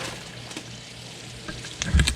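Onions frying in a pan for Filipino-style spaghetti, a soft steady sizzle close by with a brief stirring clatter at the end.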